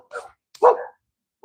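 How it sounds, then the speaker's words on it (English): Dogs at a plant nursery greenhouse barking, with two or three sharp, close barks separated by short silences. "dogs are just barking"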